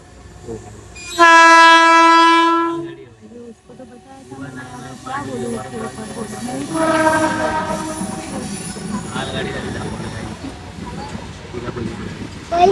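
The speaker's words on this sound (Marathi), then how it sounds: "मालगाडी आली" A loud train horn blasts for about two seconds, followed by the rumble and clatter of a long freight train rolling past nearby.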